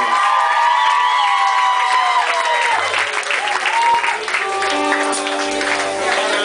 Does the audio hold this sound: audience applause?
yes